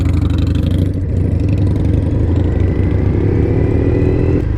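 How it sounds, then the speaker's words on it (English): A Triumph motorcycle engine drones loudly and steadily while being ridden through traffic, with a low rumbling note and slight pitch changes as it moves, wind noise over it and no talk. "I felt pretty cool driving past the elementary school on my cool motorcycle"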